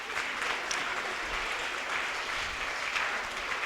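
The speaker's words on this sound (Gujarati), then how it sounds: "બધા માટે જોરદાર તાળીઓ પાડી દો" A roomful of people applauding quiz participants at a school Ramayana quiz for students, dense steady clapping at moderate distance with no pauses.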